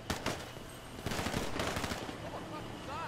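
Rapid bursts of gunfire in GTA 5 Online, a quick volley at the start and then a denser stretch of automatic shots, fairly faint and slightly distant, with a voice briefly audible.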